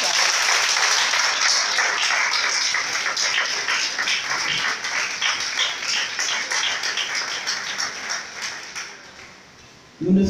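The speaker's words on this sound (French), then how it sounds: "je vous demande de les applaudir très fort" An audience at a commemorative gathering applauds loudly and steadily for about nine seconds, the dense clapping gradually thinning and fading before a brief new sound at the end.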